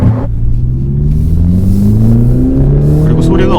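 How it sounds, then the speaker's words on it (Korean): BMW Z4 sDrive20i roadster in sport mode, engine revving loudly with rising harmonic sweeps, a strong steady drone from close by that climbs in pitch through the clip. "스포트로 놔두고 밟으면 소리가 엄청 커지고"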